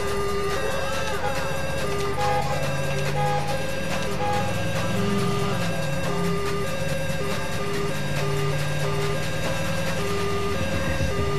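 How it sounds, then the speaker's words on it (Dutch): A Rotterdam ambulance siren from an emergency-services video game mod wails in a fast, repeating two-tone pattern, loud and steady over continuous background game noise. "deze sirene klopt niet helemaal. Gaat te snel."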